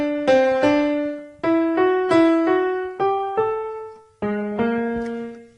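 Piano notes struck in pairs, two close tones a major second apart, repeated several times in different positions, each decaying before the next.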